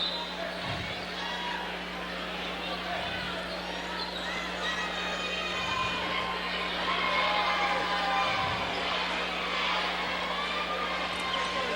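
A crowd fills the gym at a Dothan versus Northview high school basketball game with a constant busy murmur and chatter, while a ball bounces a few times in a slow irregular rhythm beneath the noise.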